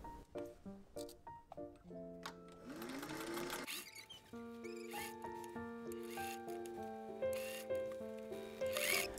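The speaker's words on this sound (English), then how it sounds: "I want to sew this right up to this point, so I'm just going to sew just a little bit more here." Sewing machine stitching fabric for a two-seam vest, running in a steady whirring burst with a brief pause before stitching on a little further, close and clear with no talking.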